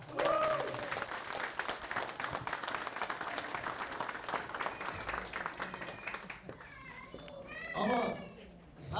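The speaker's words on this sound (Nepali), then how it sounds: "सबैले एकपटक ताली बजाइदिनु" A crowd at a thank-you party applauds in a fairly quiet, dense patter of clapping that runs for several seconds before fading, after which voices and children's chatter come through.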